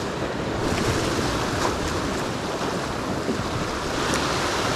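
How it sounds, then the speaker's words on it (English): Sea swells surging and breaking against rocks on the Cornish coast at high tide, a steady loud wash of surf with wind noise buffeting the microphone throughout. "Just one or two larger swells you've got to be a bit aware of."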